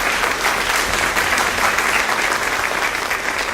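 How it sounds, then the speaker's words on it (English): An audience applauds a school chorale at a Founder's Day event, steady dense clapping filling the hall throughout without any voices. "Can we give them a round of applause?"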